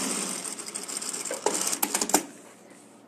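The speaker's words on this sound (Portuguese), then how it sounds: "vou bater a minha costurinha de acabamento" A sewing machine stitches a finishing seam on a handmade wallet, giving a close, rapid mechanical chatter that runs in short bursts, then slows and stops near the end.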